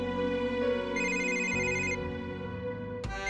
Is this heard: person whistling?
no